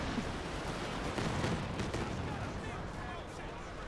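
Calliope rocket artillery firing in Company of Heroes 2 produces a dense, continuous roar of launches and blasts with rumbling low end, kept up the whole time with a slight swell in the middle.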